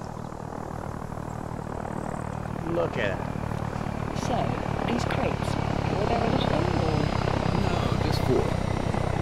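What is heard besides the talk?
helicopter engines in ARMA 3 video game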